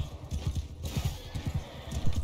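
Cavalry horses gallop in the video game Mount & Blade 2: Bannerlord, with rapid, steady hoofbeats pounding close and loud over a dense battle din, with no talk.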